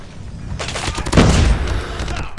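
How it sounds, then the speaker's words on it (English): Gunfire in Call of Duty Mobile during a hardpoint match, a loud close volley of shots and booms swelling after a quieter start, with a voice briefly under the noise. "Oh, I got shot in the back trying to slide in, dude."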